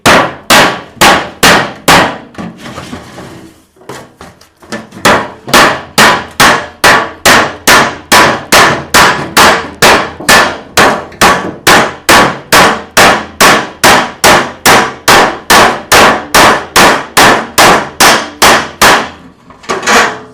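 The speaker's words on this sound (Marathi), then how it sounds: "अशा पद्धतीने आपण कापून घेतोय" Close, loud metallic cutting of an empty metal oil tin, a steady series of about forty sharp, clanging snips or strikes in an even rhythm, with a brief pause near the start and no talking.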